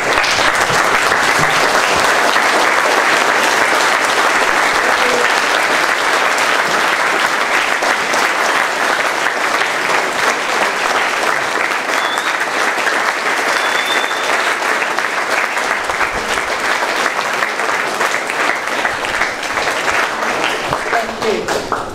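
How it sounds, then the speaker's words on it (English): A school audience at a Year 11 awards ceremony stands and gives the teachers a sustained round of applause, dense steady clapping filling the hall from start to finish with a light crowd murmur beneath. "let's stand and give your teachers a round of applause"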